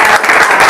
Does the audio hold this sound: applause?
yes